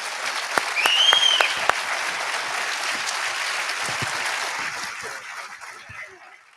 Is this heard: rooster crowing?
no